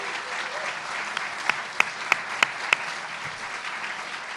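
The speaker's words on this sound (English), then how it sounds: "I want to give them a round of applause." Audience applause fills a city hall State of the City address in Seattle, a steady wash of clapping with a few sharp, louder claps standing out near the middle, moderately distant.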